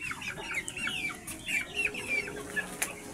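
Rhode Island and Brahma Native chickens in a free-range yard cluck softly and repeatedly while pecking at leftover feed on the floor, a steady scatter of short calls over low background noise.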